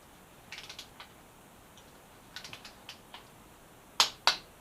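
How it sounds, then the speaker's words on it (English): Torque wrench tightening fork bolts on a Yamaha FZ6R fitted with R6 forks, giving a run of small clicking ratchet ticks in loose clusters, then two sharper, louder clicks near the end, alone with no talk. "So these are at 17 foot-pounds, and the top two are supposed to be 19. Let's torque the last little bit."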